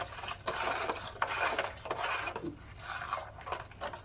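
A floor cleaner mixture is stirred by hand in a large quantity of water, producing repeated scraping, rubbing strokes against the container in an uneven rhythm, close and moderately loud.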